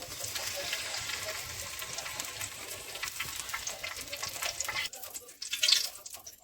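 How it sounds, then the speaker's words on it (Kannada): Steady sizzling of tomato chutney ingredients frying in oil, loud and close, with occasional stirring scrapes; the sizzle thins out near the end. "ಚೆನ್ನಾಗಿ ಸ್ವಲ್ಪ ಒಂದು ಎರಡು ನಿಮಿಷ ಚೆನ್ನಾಗಿ ಫ್ರೈ ಮಾಡ್ಕೊಡ್ತೇನೆ"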